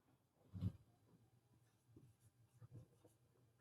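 Quiet writing on a board or paper during a maths lesson, a few soft scratchy strokes and taps spread unevenly, faint and close, with no speech.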